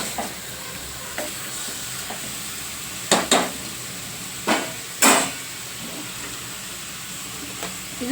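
Spoon stirring masala into country chicken pieces in a pot, a steady low sizzle broken by several sharp scraping clanks near the middle, close and fairly quiet with no voices.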